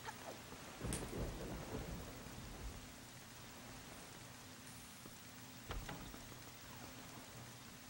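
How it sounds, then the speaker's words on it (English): A thunderstorm rages in Zelda: Wind Waker: steady rain hisses throughout while two sharp thunderclaps crack and rumble, one early and one near the end. "there's a terrible storm raging in this evening"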